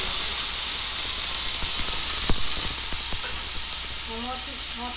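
Onion, garlic and green chillies fry in a little white oil for a mashed pea dish, giving a steady close sizzle with a few sharp stirring clicks and no talk.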